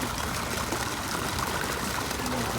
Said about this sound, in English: Mechanical water clock.